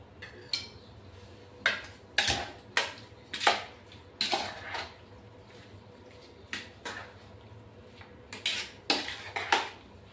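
Prawn fry masala being stirred in a pan, with a spoon clinking and scraping against the metal in irregular sharp taps and scrapes, close up and without talking.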